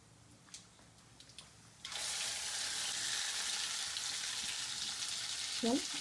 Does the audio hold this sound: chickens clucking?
no